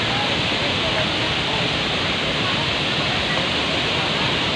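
Bolinao Falls pours in a steady, broadband roar of falling water that fills the whole scene, loud and continuous with no break.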